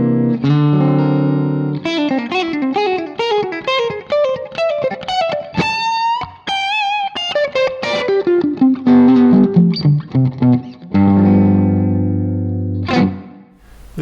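An electric guitar played through the Neural DSP Archetype plugin rings out in clean arpeggiated notes and sustained chords, with stereo delay repeats and a shimmering reverb tail, loud and close, no talking.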